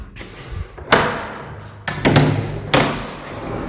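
A large front door of a house in France, sticky at the bottom, is pulled open in several heavy scraping, thudding pushes with pauses between, close and fairly loud.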